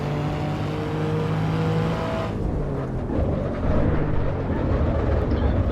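Race car engine heard from the cockpit in the Assetto Corsa Evo racing game: a loud, close, steady droning roar, then a drop in pitch as the engine note shifts and it keeps rumbling to the end.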